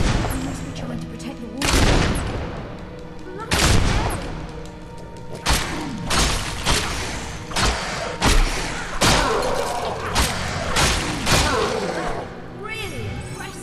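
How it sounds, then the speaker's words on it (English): Gunshots in the video game Fable 2, loud booming shots fired in irregular bursts, some in quick succession, with thuds and game effects between them and people talking over the action. "I'm gonna shoot them."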